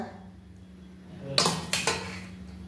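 Garlic and onion paste for chicken pakora going into a kitchen pan, a few brief metallic clinks and scrapes of a spoon against the pan, close and moderately loud, alone after a quiet start.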